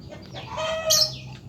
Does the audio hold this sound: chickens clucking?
yes